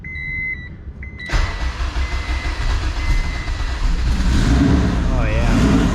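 An AWD Honda Civic engine cranks and catches after a brief fuel-pump whine, then settles into a loud, steady running rumble close by, with faint talk over it.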